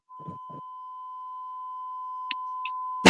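A steady censor beep tone runs almost the whole length on a radio sports talk show, broken by brief bits of voice at the start and short clicks near the end.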